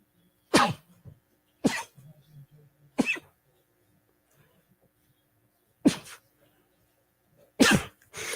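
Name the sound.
sneeze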